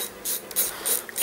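Bolts on the charging coils of a 420cc Predator or Honda GX390 small engine are snugged with a hand ratchet, giving a few short bursts of ratcheting clicks close by, with no talking.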